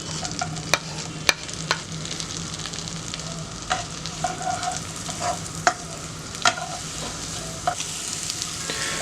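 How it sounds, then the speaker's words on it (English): Mushrooms sizzle steadily in melted butter in a hot pan, crackling and popping, with occasional scraping and clinks of a utensil stirring, close up and without talk. "After the butter has melted and you can hear the sizzling sound, just add in all your mushrooms."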